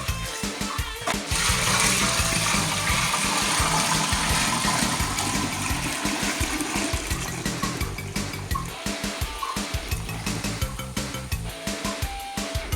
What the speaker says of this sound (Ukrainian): Заливаю вино у перегоннику.